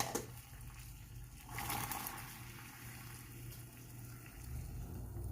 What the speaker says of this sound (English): So now my water is boiling and I'm ready to put my boba in.